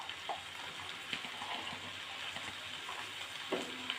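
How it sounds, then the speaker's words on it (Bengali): Small-cut potato pieces fry in a pan, giving a soft, steady sizzle with faint scattered crackles, quiet and continuous throughout. "আমি আলুগুলো ছোটো ছোটো করে কেটে রেখেছি, সেই আলুগুলো দিয়ে আমি ভেজে নেব"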